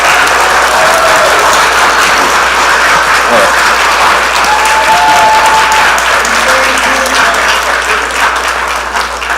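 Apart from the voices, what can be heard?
church congregation applause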